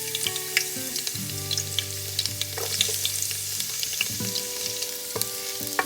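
Garlic frying in warm oil in a pan for a vegetable soup, a steady crackling sizzle with sharp pops and occasional stirring scrapes, close and continuous throughout.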